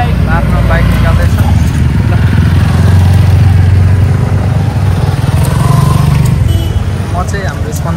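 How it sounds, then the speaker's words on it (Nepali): Several motorbikes idle and rev nearby as they are brought out and ridden off, a loud continuous engine rumble with people talking over it. "सबै केटाहरू आफ्नो बाइक निकाल्दैछ"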